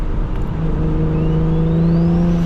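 BMW 335is engine pulling steadily under acceleration while driving, a smooth rising drone heard from inside the car, loud and continuous with no voices.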